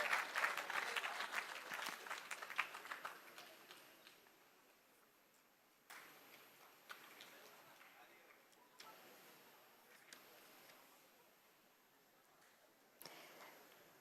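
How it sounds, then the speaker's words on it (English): Applause breaks out from the audience at an international symposium on law and peace, loudest at the start and then fading and thinning into scattered claps over the remaining seconds. "can we have a huge round of applause for Dr. Vijay Khare sir"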